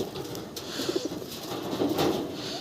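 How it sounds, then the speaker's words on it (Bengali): Pigeons coo close by, soft throaty warbling calls repeating over a low background hum. "এই যে এই পায়রাগুলো ছাড়বো"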